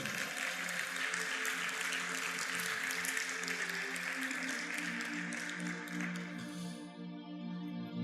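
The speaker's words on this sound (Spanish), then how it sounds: "Fuerte aplauso al Señor" A church congregation applauds the Lord, a soft, distant, even patter of many hands over about seven seconds, with an organ-like sustained tone underneath that carries on as the clapping fades.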